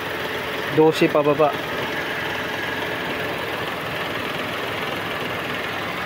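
A car engine idles steadily with a low continuous hum after about five minutes of running, its air conditioning having lost cooling on the road; someone speaks briefly over the start.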